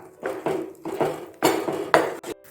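A spoon scrapes and knocks rhythmically against a pan while thick date halva cooked with ghee and white sesame seeds is stirred, about six distinct close strokes with metallic clinks and no talk.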